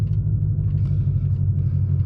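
A 2020 Shelby GT500 rolls along an empty road on cold tires, its engine and drivetrain making a steady, deep, close rumble with no voices.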